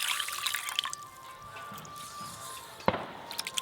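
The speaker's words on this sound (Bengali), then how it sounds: "এদিকে ভেজে রাখা মুগের ডালগুলো জল দিয়ে ভালো করে ধুয়ে নেব।" Fried moong dal being rinsed in water, with soft drips and trickling splashes throughout, a brief sharper splash near the end, quiet and close with no talking.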